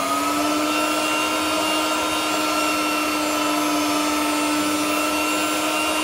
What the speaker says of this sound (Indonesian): lanjut kita mixer sebentar dengan kecepatan rendah